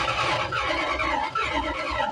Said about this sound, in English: That starter ain't happy.